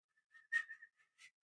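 A person whistles a short, clear melodic phrase of a few notes, rising and falling, then a brief final note after a pause; close and fairly quiet with no talk.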